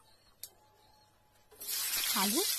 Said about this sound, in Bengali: আলুটাকে ভালোভাবে ভেজে নেব লাল লাল করে